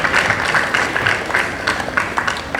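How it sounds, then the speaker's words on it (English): Students at a school assembly clap their hands together, a steady mass of overlapping claps that holds at a moderate, even level for a couple of seconds. "Yes, very good. Clap your hands."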